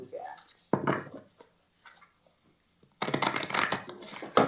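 Crisp riffling of a deck of cards, a short burst, a quiet pause, then a longer, louder run of rapid shuffling close by.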